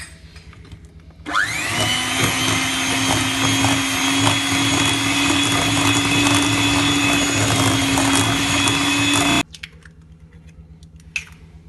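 An electric mixer beats butter, sugar and eggs for a marble cake, switching on abruptly and whirring at a loud, steady pitch for about eight seconds before cutting off, followed by a few faint clinks.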